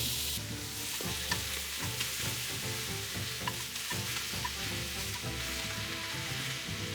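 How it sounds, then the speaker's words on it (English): Pork carnitas pieces searing in a hot pan on the stove, giving a continuous crackling sizzle close by with scattered pops and spatters throughout, no speech. "Let it heat up and give each side a good sear."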